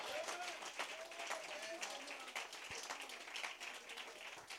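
Faint, steady clapping and cheering from a church congregation, with voices mixed through the crowd noise.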